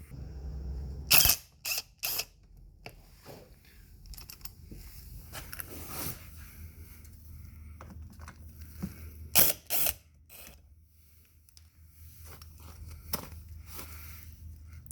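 Fairing screws come out of a Suzuki Burgman 650 scooter, giving intermittent ratcheting clicks and small metallic taps close by, separated by quieter handling noise and brief pauses.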